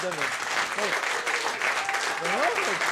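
Crowd applause for a four-year-old birthday girl on stage at a football club event, continuous clapping from many people with voices talking and calling over it.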